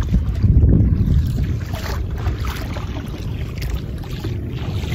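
Boat motor and water noise on open water, a steady low rumble with wind buffeting the microphone, louder at first and then settling.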